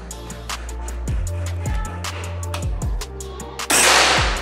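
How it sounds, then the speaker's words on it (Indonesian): A run of mechanical clicks and low thumps, then a single loud, sharp shot from a Ghost Warrior V2 air rifle bursts out near the end. "Dan kita lanjut untuk tembakan yang kedua."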